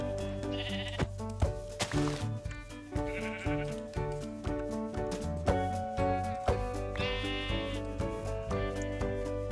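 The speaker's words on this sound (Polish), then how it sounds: "Owce, dużo owiec." Sheep bleating in the video game Minecraft, several bleats rising over steady game music with a rhythmic backing, a few distinct calls spaced across the stretch, close and clear.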